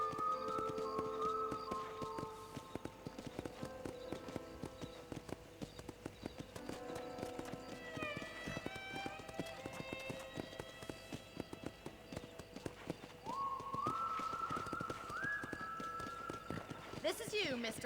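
Horse hooves gallop in the Red Dead Redemption video game, a steady run of clip-clop beats under ongoing music and game sounds, with people talking over it.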